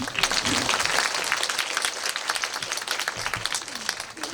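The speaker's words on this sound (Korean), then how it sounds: "박수" An audience at a film screening Q&A applauds with dense, steady clapping that carries on for several seconds and tapers slightly toward the end.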